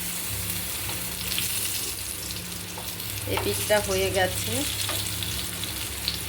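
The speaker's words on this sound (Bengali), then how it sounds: "এবারে দেখি ভাজাগুলো উল্টে দেব।" Pieces fry in mustard oil in a pan with a steady, close crackling sizzle, and a voice speaks briefly partway through.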